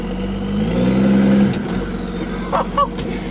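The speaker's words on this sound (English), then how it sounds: "First time this truck has actually moved under its own power." A 12-valve Cummins truck engine drives under its own power for the first time, with a loud, close diesel rumble that swells as it pulls away, then eases back under lighter background noise.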